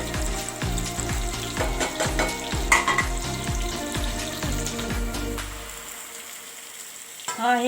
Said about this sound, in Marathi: हे वांगी आता थोडीशी परतून घेणार आहे